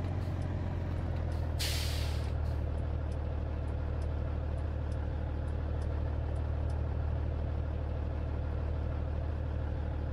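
Truck air brake in Farming Simulator 19 releasing one sharp hissing burst over a steady low engine idle, with faint repeated ticks above.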